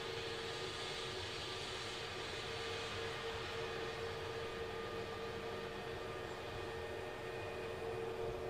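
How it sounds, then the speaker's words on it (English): A Boeing Dreamliner jet lined up for takeoff at Glasgow airport, its engines a faint, distant, steady roar and whine heard from afar with no voices. "Dreamliner is lined up."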